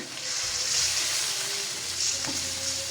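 Coconut milk being stirred in a pot of Bicol-style dinuguan, a steady sizzling simmer with soft scraping of the spoon, continuous and fairly close, no voices.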